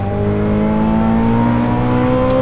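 Engine note from a Ferrari 488 Pista rising steadily under acceleration, a loud, smooth revving whine that climbs in pitch throughout, heard from inside the car with no talking.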